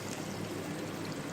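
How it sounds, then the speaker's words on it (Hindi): Water, about two glasses, poured into chana dal in a pot, making a steady, continuous rushing stream at moderate volume with no talk. "अब हम इसके अंदर पानी शामिल कर देंगे तकरीबन 2 गिलास के करीब।"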